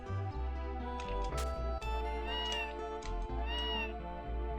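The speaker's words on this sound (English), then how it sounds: "Why are they making meows?" Repeated cartoonish cat meows from the video game Tales of Phantasia ring out over looping game music, several short rising and falling calls in quick succession, with no talk.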